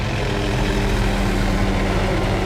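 A helicopter flying over a herd of wild African elephants, with a loud, steady engine roar and rotor drone that stays constant and close throughout, with no voices.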